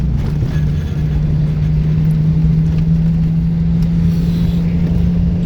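A car cruising at speed on a desert road in Cholistan, a steady, loud engine drone with a constant low hum and road rumble throughout, no voices.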